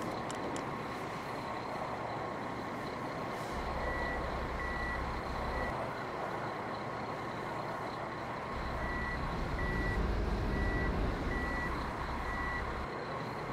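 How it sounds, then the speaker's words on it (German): Pistenbully snow groomers drive on a snowy slope, a steady deep diesel engine rumble with repeated high reversing beeps sounding in two bursts, continuous and fairly close, with no talking. "Wir haben ja eh zwei Pistenbullis hier schon stehen. Und wie man sagt, fahren wir mit denen mal raus."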